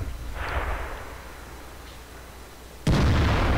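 A tank gun fires in the World of Tanks video game, one sudden heavy boom near the end after a stretch of low ambient battle rumble.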